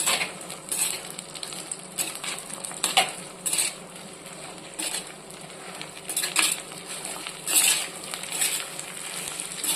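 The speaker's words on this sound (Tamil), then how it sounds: "மஞ்சள் தூள் சேர்த்துட்டு வெண்டைக்காவை நல்லா எண்ணெயில் வதக்கி எடுத்துடலாம்" Okra sautés in oil with turmeric, giving a steady sizzle broken by repeated sharp clinks and scrapes of a utensil against the pan. No voices.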